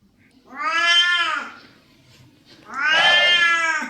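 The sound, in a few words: cat meowing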